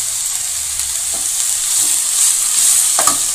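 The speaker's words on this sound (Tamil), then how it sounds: "நல்லா மிக்ஸ் பண்ணி வதக்கிங்க" Potato masala for poori kizhangu being stirred and sautéed in a pan, a loud, close, continuous hissing sizzle with light spoon scrapes now and then, no speech.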